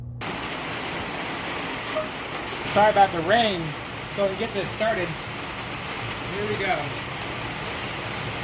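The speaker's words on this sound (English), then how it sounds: "Sorry about the rain." Steady rain hisses down across an outdoor barbecue where oysters are being grilled over coals, a constant wash of noise underneath someone talking in the foreground.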